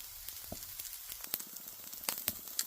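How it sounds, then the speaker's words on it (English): Food sizzles and crackles steadily in a pan, with sharp pops and snaps scattered throughout, fairly close and moderately loud. "Listen to that nice sizzle."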